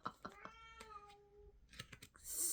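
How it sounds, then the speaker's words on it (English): A cat gives a drawn-out, wavering meow, fairly near and moderately loud, among soft clicks and tapping, with a brief noisy burst at the end. "Full on kitty confirmation."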